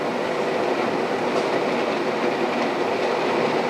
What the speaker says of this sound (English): I'm going to put on the camera next to the window so you can hear how loud it is outside.